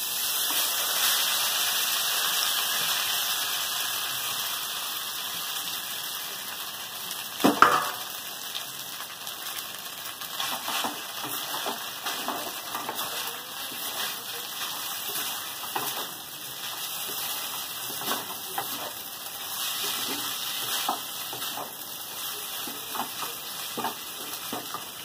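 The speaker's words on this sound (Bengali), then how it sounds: "এই সেদ্ধ করে রাখা চাউমিনগুলোকে ভেজে নেব।" Pre-boiled chow mein noodles fry steadily in hot oil, a continuous soft sizzle with occasional stirring scrapes and a sharper clatter near the start, no voices.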